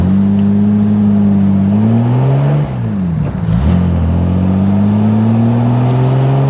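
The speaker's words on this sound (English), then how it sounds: "So you can hear that induction noise made it to the sports exhaust." Jaguar XK120SE sports car on 2-inch SU HD8 carburettors, its induction noise carried through a sports exhaust: a loud, steady engine drone that dips briefly as revs change, then rises again, close and with no voices.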